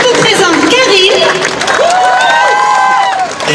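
A crowd keeps up dense, continuous applause and cheering during a farewell show for a theme park attraction's final closure, the noise steady and loud with voices woven through it.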